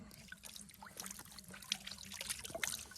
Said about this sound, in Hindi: मैं थोड़ा मुंह भी धुल लेता हूँ, साफ हो जाएगा बढ़िया